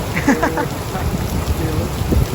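Rain falls steadily at a petrol station where travellers shelter from the downpour, a dense continuous hiss with a few brief voices faintly heard under it.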